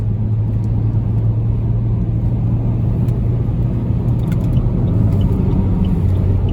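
Saab 9-3 cruising on a freeway, heard from inside the car as a steady, loud engine and road rumble with a constant low drone and no change in speed or pitch. No one speaks.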